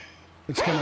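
A single sharp sneeze bursts out close to the microphone right after a few spoken words, brief and loud.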